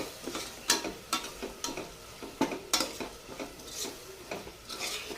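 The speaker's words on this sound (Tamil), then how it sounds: "தக்காளி நல்லா வதங்கணும்." Tomatoes and green chillies sautéing in a pan for a lunch-box dish, with a soft, steady sizzle and repeated scraping stirs of a spatula at an uneven rhythm, close and fairly quiet.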